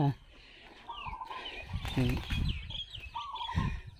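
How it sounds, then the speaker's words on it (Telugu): Fighting roosters kept as game fowl in a village yard, clucking and giving short calls at moderate distance while someone talks over them throughout. "ఇందులో పందెం కోళ్ళు ఉన్నాయి. ఇది పందెం కోడి అనమాట, పందెం కోళ్ళు పెంచుతారు."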